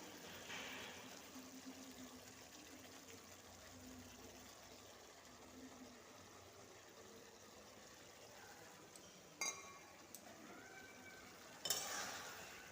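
Poppy seeds are stirred in a cooking pan for aloo posto temple bhog, with soft, faint scraping and a low sizzle throughout, broken by a couple of sharper clacks near the end.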